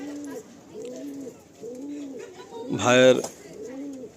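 Pigeons for sale coo in a loft, a regular series of low rounded calls repeating about every half second, with a brief loud burst of a man's speech breaking in near the end.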